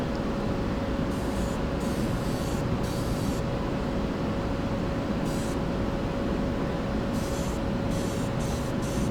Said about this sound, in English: and I'm spraying this green.